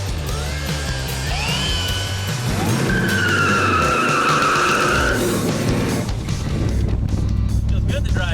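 A 1967 Chevrolet Nova on its first test drive after a restoration, engine roaring loud and steady with tires squealing and skidding through the middle, and voices talking over it.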